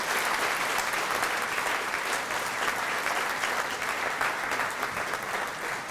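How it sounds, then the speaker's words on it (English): Sustained, dense audience applause at a property developer's evening opening ceremony, a broad wash of many hands clapping steadily at even volume throughout. "they deserve the biggest round of applause this evening"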